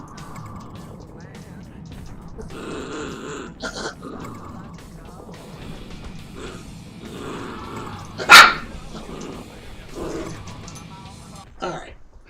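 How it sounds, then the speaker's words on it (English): Indoors, a dog lets out one sharp, loud bark close to the microphone, a brief burst over a low room hum and faint background voices. "Good grief, dog."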